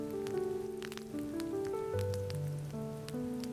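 Rain patters softly on terracotta roof tiles on a quiet night in Florence, a steady wash of small drops beneath calm, sustained music.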